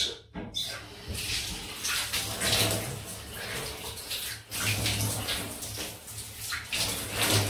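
Water splashes and runs steadily during a wet shave with a razor and soap, a close continuous rinsing wash with brief pauses, no talk.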